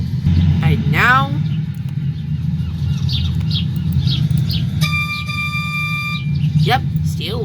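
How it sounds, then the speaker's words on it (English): A steam-engine-style train whistle from Thomas's train in the Roblox game Thomas's Line gives one sustained, bright multi-tone blast lasting over a second, set against steady rumbling game noise, with a person talking before and after it. "Oh yeah, I forgot to test this whistle."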